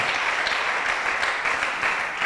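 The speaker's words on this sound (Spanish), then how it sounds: "dale fuerte ese aplauso al Señor." A church congregation applauds during a Spanish-language sermon, producing a dense, steady wash of many hands clapping together, loud and continuous for about two seconds with no voices on top.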